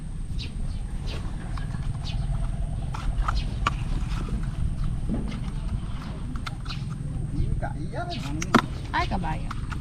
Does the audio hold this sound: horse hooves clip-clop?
yes